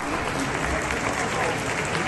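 Applause from an audience at a public event, a full, steady burst of clapping filling the room for a couple of seconds with a faint murmur of voices underneath.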